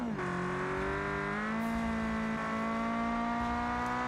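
Car engine in a modded driving video game, a swapped engine revving and holding a steady, harmonic-rich drone after a quick rise at the start, clean and continuous.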